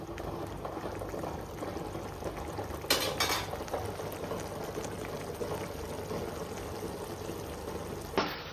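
Egg curry bubbles at a soft, steady simmer in a pot, with a few brief clinks and stirring sounds close by.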